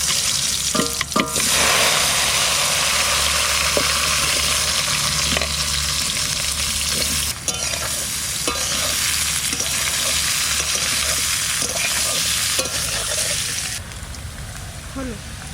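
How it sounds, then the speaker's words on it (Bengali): Pieces of taro sizzle and fry steadily in hot mustard oil with dried red chilli and cumin, a loud continuous hiss with occasional spatter and stirring clicks, ending abruptly near the end. "এবার কচুটা রান্না করবো সর্ষের তেল শুকনো লঙ্কা জিরে এবারে কচু কটা দিয়ে দেবো"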